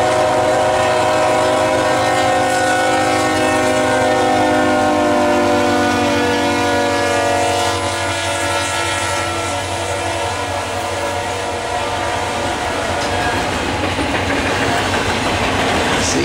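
Norfolk Southern NS 204 intermodal freight train, led by a UP AC45CCTE and an NS SD70M-2, passes near Charlotte Junction, its loud horn droning steadily over the close, continuous roar of the moving train.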